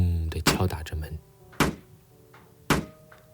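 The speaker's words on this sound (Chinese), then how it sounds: "那个男的不停咯哒咯哒地转动门把手，在一边说话的同时，也咚咚咚地敲打着门" A man rattles a door handle and knocks on a door in an apartment, with several sharp thumps spaced apart, the last two single heavy knocks, mixed with clicking handle sounds.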